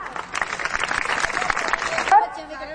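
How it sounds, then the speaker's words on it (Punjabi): An audience at a school annual function with sports events claps in a dense burst of applause that swells and then thins out, while a voice speaks over it on a loudspeaker. "ਜ਼ੋਰਦਾਰ ਤਾੜੀਆਂ"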